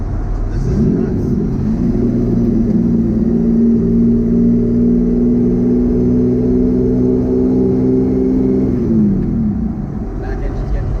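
A twin-engine, twin-turbo Mazda MX-3 pulls hard at highway speed, its engine droning in a loud, steady rising tone that holds and then drops as the throttle eases, heard from inside the car.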